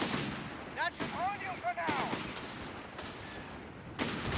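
Machine gun fire and explosions in the Company of Heroes 3 battle game, several bursts of distant-sounding gunfire and thuds with whistling shell sounds, moderately loud amid busy battlefield noise.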